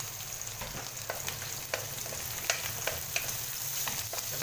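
Marinated chicken and vegetables fry in a pan while being stirred, a steady close sizzle punctuated by irregular scraping clicks of the utensil.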